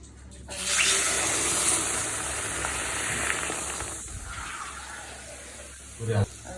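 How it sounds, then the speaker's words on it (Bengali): Water pours steadily into a pot of sugar to make syrup for homemade gulab jamun, a continuous gushing splash close by that tapers off, ending with a brief clunk. "আমি এখন চিনি দিয়ে দিচ্ছি এখন ঠিক এক কাপ আমি পানি দিয়ে দিব"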